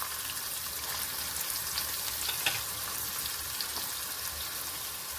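Chopped onion frying in oil with cumin and mustard seeds, a steady soft sizzle with faint crackles throughout; no talking.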